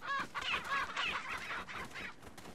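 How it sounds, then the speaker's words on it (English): Chicken clucking in the village of Resident Evil 4, a run of short, fairly loud squawking clucks over a couple of seconds with no talk over it. "Chicken."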